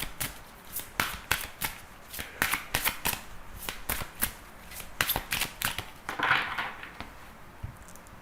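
A tarot deck is shuffled by hand, producing a quick series of crisp riffling and tapping bursts, close and fairly quiet, with no voice over it.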